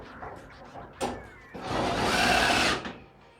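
While a light is being mounted, a power driver gives a short whir and then runs steadily for over a second, driving a screw in up close with no talking.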